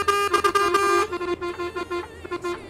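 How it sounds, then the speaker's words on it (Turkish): Loud truck horns in a truck-driving video game blare in long, overlapping blasts, then break into shorter, choppy honks. "Korna fazla çalmayın da müziği duyak kardeş."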